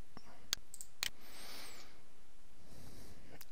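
Two crisp computer mouse clicks, close and fairly loud, about half a second apart in a quiet room with faint background hiss.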